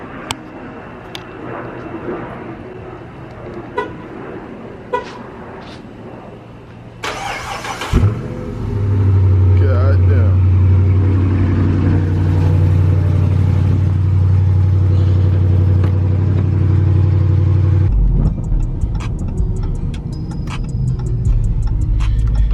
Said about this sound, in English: I'm gonna give y'all a cold start